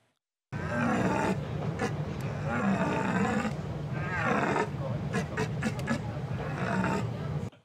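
A person blows through a wooden telescopic tube to imitate a stag deer's bellow, producing a loud, continuous, throaty roar that runs for about seven seconds with rising and falling grunting swells.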